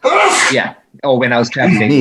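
A single sneeze bursts out loudly at the start, followed after a short pause by a person talking.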